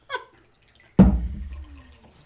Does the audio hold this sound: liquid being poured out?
yes